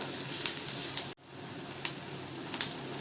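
Onion sautéing in a pan over a high flame gives a steady, close hiss and sizzle with a few faint stirring ticks. It cuts out briefly near the one-second mark and then resumes, and no one speaks.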